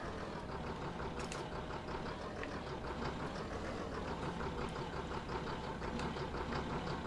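A tractor engine in the farming game Farming Simulator 19 runs steadily with a dense, knocking idle rumble. It stays continuous and even throughout, with no talk over it.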